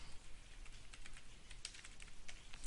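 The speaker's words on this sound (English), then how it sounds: "So here I'm going to type in Civil War" Keys clatter quickly and softly on a computer keyboard as a search query is typed, a steady run of light close taps with no voice.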